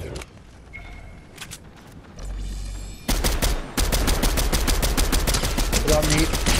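Video game gunfire: after a quieter stretch, rapid bursts of automatic shots break out loudly and keep going almost without pause, close and harsh.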